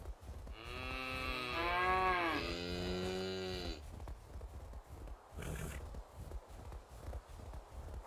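Cattle mooing in the medieval farming video game Medieval Dynasty: a long, loud, drawn-out moo with a falling then rising pitch fills the first few seconds, followed by softer farmyard rustle and a brief noise burst.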